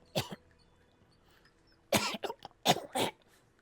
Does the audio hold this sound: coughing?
yes